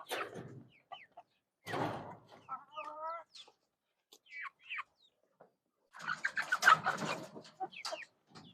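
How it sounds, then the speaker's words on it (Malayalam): Backyard laying hens received from a village council cluck in short, close bursts between quieter gaps, with a louder flurry of overlapping fowl calls and scuffling near the end. "ഇത് നമുക്ക് പഞ്ചായത്തിൽ നിന്ന് കിട്ടിയ കോഴികളാണ് കേട്ടോ"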